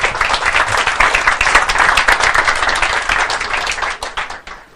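An audience at a talk on ecological transition breaks into loud, dense applause that swells fast, holds steady for several seconds, then thins out and fades near the end.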